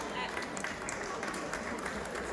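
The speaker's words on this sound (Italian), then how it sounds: "Vi fate un applauso a questi giovani di Antica Strassas" An outdoor festival crowd in Siniscola applauds a group of young Sardinian folk singers, a steady, moderately loud wash of clapping with scattered sharper claps throughout.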